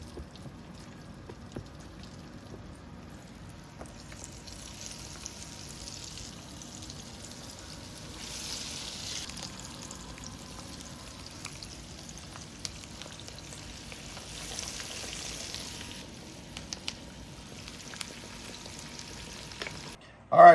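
Burger-bomb patties dropped into hot grease for a Jamerican BBQ stack, crackling in a low, steady sizzle that runs unbroken throughout, with a louder clatter right at the end.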